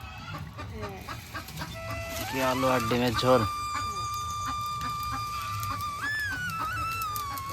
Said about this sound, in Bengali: মুরগিটা ডাকছে কেন?